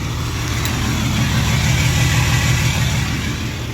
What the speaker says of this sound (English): I hear an exhaust brake.